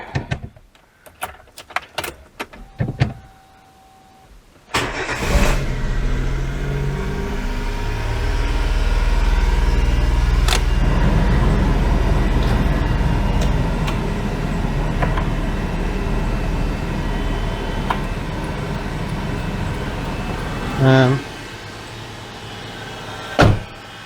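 Daewoo Matiz small car engine, tested for idle control after a service, with a few clicks and knocks before it fires up at about five seconds, then a steady, loud idle drone that surges slightly as it revs too high, with occasional clunks.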